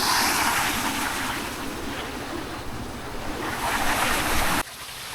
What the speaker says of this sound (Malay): Turun kepala air membawa batu-batu dan kayu